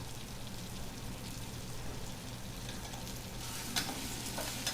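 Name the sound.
onion, tomato and salt frying in a pan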